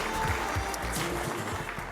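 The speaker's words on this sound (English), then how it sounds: "Please, a big round of applause for Piotr Kijewski." An audience at a cybersecurity conference gives a speaker a round of applause, a continuous wash of many hands clapping at a steady, moderate level with no clear voices over it.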